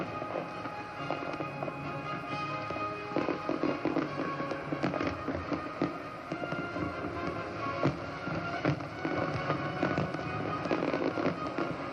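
A fireworks display bursts over a harbour at a Royal Australian Navy fleet review, with dense, continuous crackling, popping and booming shells heard from a distance, loud and unbroken.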